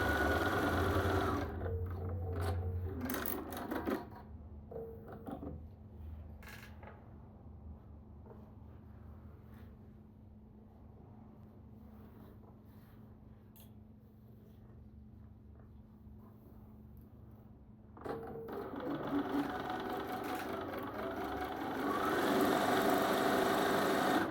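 A sewing machine stitches quilt block seams in sustained, whirring bursts, loud at the start and end with a quieter, steadier hum through the middle.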